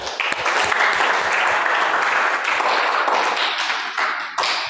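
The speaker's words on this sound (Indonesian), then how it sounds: "Tepuk tangan." Students in a classroom clap after a correct answer during a physics lesson on Newton's laws, a lively burst of close, brisk hand claps that keeps going and tapers slightly near the end.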